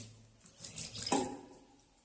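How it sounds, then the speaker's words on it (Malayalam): Water from a wash basin tap at a hillside budget resort runs briefly in a short splashy burst mid-clip, fairly quiet and alone with no talk. "ഇവിടെ ഒരു വാഷ് ബേസ് ഉണ്ട്, വെള്ളമൊക്കെ ഉണ്ട് കേട്ടോ."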